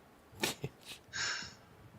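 A single sharp sneeze burst, close and fairly loud, followed by a short breathy hiss; no talking.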